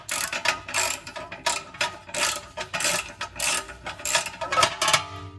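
A ratchet wrench clicks in quick rhythmic bursts while loosening a 10mm factory bolt on a Toyota truck's wheel speed sensor, close up and loud, with no voices.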